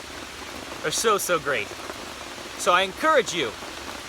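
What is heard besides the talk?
rain falling outdoors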